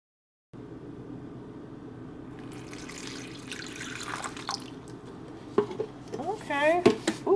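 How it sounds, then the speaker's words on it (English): Water runs from a tap into a fabric period panty pouch, a steady close rush of flowing water, with someone talking over it near the end. "so I'm going to fill this up with water"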